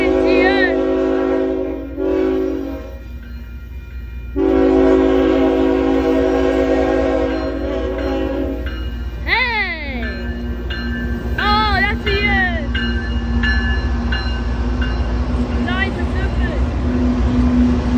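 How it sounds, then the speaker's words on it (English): A CN freight train rolls past on Sampson Street, its steady low rumble continuing while the horn sounds in several loud, sustained blasts near the middle and end, with some background chatter. "There's a train."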